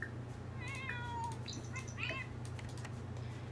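A cat in The Sims 4 gives a few short, rising meows in quick succession over a low steady hum, fairly faint and alone with no talking.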